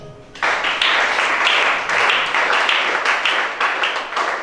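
Loud, sustained applause from a church congregation during a worship service begins abruptly and continues as a dense, steady roar of many clapping hands with slight pulsing.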